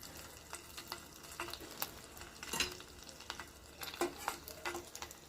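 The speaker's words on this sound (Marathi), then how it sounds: "तेलही तापलेलं आहे आपण चेक करूयात आधी" Rice pakoda batter crackles and sizzles in hot oil in a kadai on a gas stove, with a steady run of sharp pops and spits close by and no talking.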